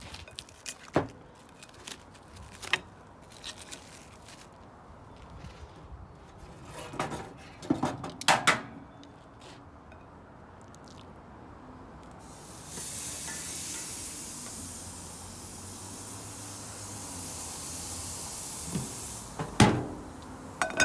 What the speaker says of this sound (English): So since this side's nice and hot, we'll put the lamb chops right there.